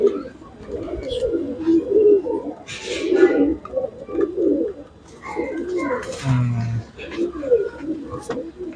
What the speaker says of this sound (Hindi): एक ये ललसरा कबूतर है